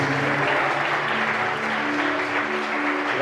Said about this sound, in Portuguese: Quem pode aplaudir ao Senhor, aplaude a Ele e glorifica o nome de Jesus.